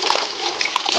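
A car wash mitt is rinsed out in a rinsing bucket of ceramic shampoo water, giving a short continuous burst of splashing and sloshing.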